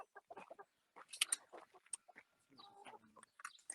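Several chickens cluck and cackle in short, scattered bursts, fairly faint, with quiet gaps between calls.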